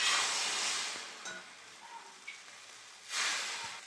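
Rice-flour batter for soft soru chakli pancakes sizzles on an oiled hot griddle, a loud hiss that fades and then flares up again near the end.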